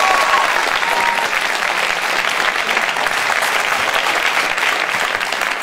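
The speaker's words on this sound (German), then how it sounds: "nochmal einen großen Applaus für ITE" A crowd claps for quiz teams at a festival quiz show, dense sustained applause that stays loud and even for several seconds with no distinct voices above it.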